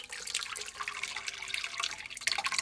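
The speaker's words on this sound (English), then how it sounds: "now you're gonna go ahead and pour your sauce in the pot" Homemade barbecue sauce of sweet chili peppers and Pepsi pours into a cooking pot, a close, steady liquid splashing and trickling with a few dripping accents throughout.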